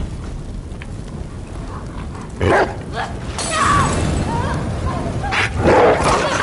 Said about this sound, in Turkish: Kapa çeneni. Köpekçik.